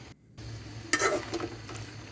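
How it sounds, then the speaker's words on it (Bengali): Bengali fish and potato bharta being stirred in a pan, a soft scraping and mashing stroke over a low steady background hum. "এই ভর্তা রেসিপি যত বেশি নাড়ানো হবে তত বেশি ভালো হবে"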